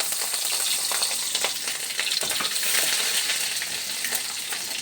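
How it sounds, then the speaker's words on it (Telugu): Ivy gourd tempering crackles and sizzles in hot oil, a dense, bright, continuous frying hiss with scattered pops, close and loud with no talking. "దొండకాయ తాలింపు చేస్తున్నాను"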